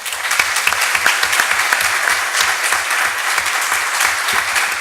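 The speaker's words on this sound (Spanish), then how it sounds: "gracias por los aplausos a nuestros panelistas" A conference audience applauds panelists at an international arbitration congress, a loud, dense, steady round of clapping with no talk over it.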